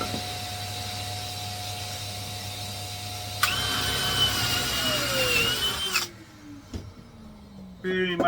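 A power drill bores a 10mm drainage hole through the 18mm OSB bottom of a nest box, a loud whine that rises as it bites into the board, then stops and winds down, with a person speaking around it.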